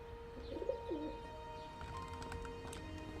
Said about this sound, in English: Weaponized pigeons.